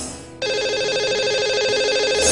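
A telephone rings steadily as a caller is patched through to a live Hindi radio or TV show, a continuous loud electronic ring tone filling the clip with no talk over it.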